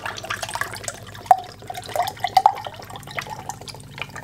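VOOZ watermelon hydration drink pours into a glass up close, with a trickling, splashing stream and several bright drip-like plinks scattered throughout, with no talking.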